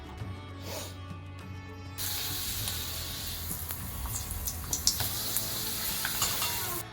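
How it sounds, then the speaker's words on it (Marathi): Urad dal papad frying in hot oil, a continuous close sizzle that jumps louder after a couple of seconds, with light crackles and faint utensil sounds, no talk. "इकडे पापड तळते उडदाचे पापड आहेत"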